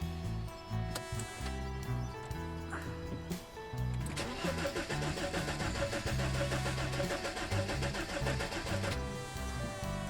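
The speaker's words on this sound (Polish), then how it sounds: "Próbuję wyłączyć i włączyć zapłon i go zakręcić, zobaczyć czy w ogóle jakikolwiek dźwięk z siebie wyda" A car engine cranks over and over without catching, a steady mechanical churning that keeps going for several seconds after some quieter fumbling.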